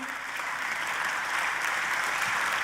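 Sustained applause from a church congregation, a steady dense wash of many hands clapping at even loudness throughout with no talk on top.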